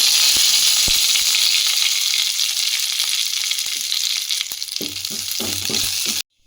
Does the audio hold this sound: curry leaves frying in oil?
yes